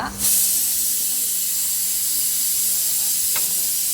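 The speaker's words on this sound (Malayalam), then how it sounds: "ലേശം നല്ല നാടൻ വെളിച്ചെണ്ണ ഒഴിച്ചു കൊടുക്കുകയാണ്" Native coconut oil poured over karimeen pearl spot fish in a hot pan sets off a loud, steady hiss of sizzling that starts with a sharp burst and holds, with a brief clink near the end.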